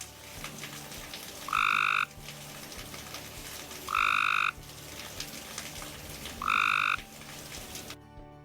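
Three loud, harsh Cope's gray tree frog trills, each about half a second long, spaced evenly apart, standing out against a constant backdrop of chirping insects and night sounds.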